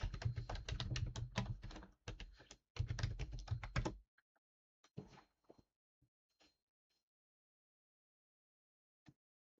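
Rapid clatter of keys on a computer keyboard as questions are typed, dense and close for about four seconds, then a few scattered single taps in near silence.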